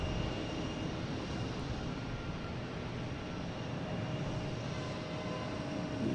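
A JetBlue airliner at Boston Logan airport makes a steady, fairly faint engine roar, a constant broad drone from a distance with no voices.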